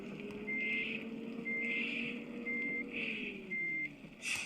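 A bus in a bus simulator video game gives steady, evenly spaced electronic reversing beeps, four or five in a row. A low engine drone runs underneath, with no talk.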